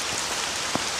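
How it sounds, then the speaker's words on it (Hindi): Steady rain falls on a stone path at night, a dense even patter of drops with one slightly sharper droplet hit, and no other sounds. "रास्ते पर केवल बारिश की आवाज और चारों तरफ खामोशी छाई हुई थी।"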